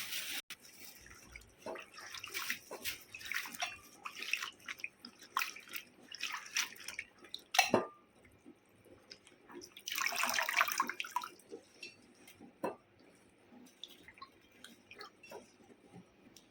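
Water is poured into a cooking pot of gongura curry with turmeric. Splashy, uneven bursts of pouring and dripping come close by, with a sharp knock midway and quieter trickles between, and no talking.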